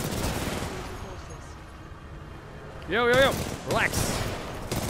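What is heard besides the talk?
machine gun fire in the video game Titanfall 2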